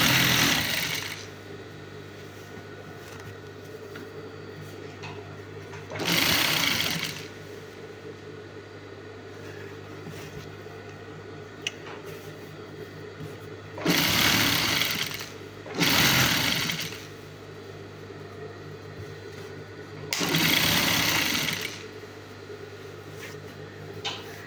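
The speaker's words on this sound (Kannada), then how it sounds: "ಈಗ ಟಾಪಿಂದ ಒಂದು ಸ್ಟಿಚ್ ಹಾಕ್ಬಿಡೋಣ" A sewing machine stitching a gown runs in several loud bursts of a few seconds each, separated by quieter stretches of steady background hum.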